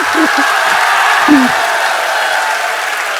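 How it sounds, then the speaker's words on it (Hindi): Audience applause during a Jain religious sermon by Acharya Vidyasagar in Jabalpur: a steady wash of many hands clapping throughout, with brief murmured voices near the start. "अभी कह रहे थे ताली बजाओ"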